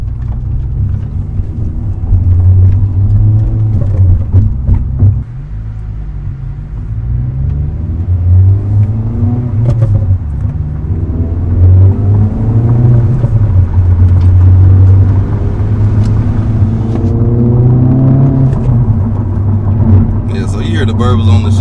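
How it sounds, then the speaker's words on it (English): Exhaust of an Acura Integra Type S rumbles and rises and falls with revs held low, with burbles between pulls, loud and close from inside the car. "The burbles on the shifts sounds pretty good. This exhaust sounds a lot better than I thought it would."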